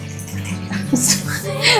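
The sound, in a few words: water being poured into a cooking pot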